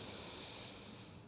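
A deep inhale through the nose during yoga breathing, heard as a single close, airy, hissing breath that fades slightly toward the end.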